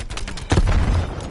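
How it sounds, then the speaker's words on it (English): Frag grenade thrown and exploding in Call of Duty Cold War multiplayer, a loud boom bursting out mid-clip over continuous noisy gunfire and battle din. "Throwing frag."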